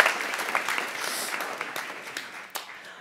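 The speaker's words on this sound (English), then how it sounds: "Give him a warm applause" Audience at a festival talk applauds warmly after a speaker, a dense wash of clapping with a few sharper individual claps, fading gradually.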